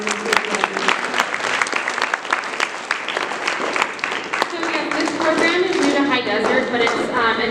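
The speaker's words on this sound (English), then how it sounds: "if we could give her a round of applause" A room full of people applauding at a school awards ceremony, dense rapid clapping sustained throughout with some cheering voices rising near the end.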